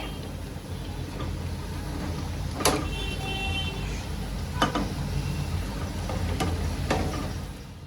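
Bhagar tikki shallow-fries in oil in a pan, a soft, steady sizzle with a few sharp clinks of a utensil. A voice is faint in the background.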